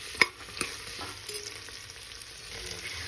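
Toor beans sautéing in a pan for sambar give a faint, steady sizzle with one sharp clack of a utensil at the start, heard briefly and quietly up close.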